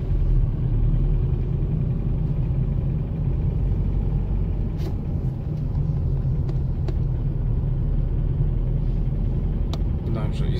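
A car engine with leaking fuel injectors drones steadily under full load, a loud low rumble filling the whole stretch with faint road noise on top.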